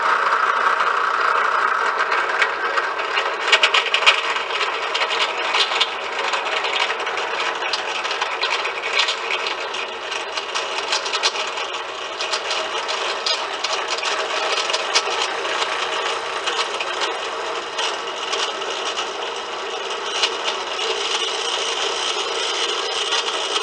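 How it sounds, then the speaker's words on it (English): A drill with a good steel bit bores a hole through a flat-held wooden piece for a 36-inch wind spinner, giving a steady, continuous whirring grind that stays close and loud for the whole stretch, with no talking. "Then I hold it flat, get the hole drilled through it"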